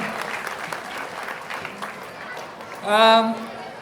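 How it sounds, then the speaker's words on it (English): An audience at a school show applauds steadily, a broad wash of clapping running throughout while a voice speaks over it. "A big round of applause to the school, the students and the management."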